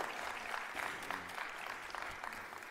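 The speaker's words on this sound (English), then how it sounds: "clap it up for the symposium" An audience at a social justice symposium applauds in a steady, dense wash of clapping that holds evenly throughout, with a faint murmur of voices underneath.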